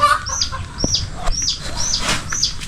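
Chickens cluck and chirp in short repeated calls, close by, with faint rustling and farmyard background.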